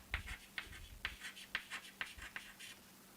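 A lecturer writes in short, evenly spaced strokes, about eight distinct scratches in a quiet room with a faint steady hum and no talk.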